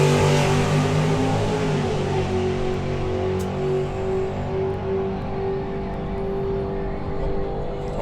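A two-seater gasser dragster makes its drag strip pass into a strong headwind at Dragstalgia 2024, a loud sustained engine roar that starts close and slowly fades as the car pulls away.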